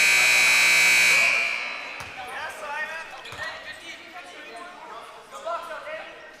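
A loud, sustained electronic buzzer ends the first half at a men's national championship basketball game, then fades into arena crowd noise with a commentator talking.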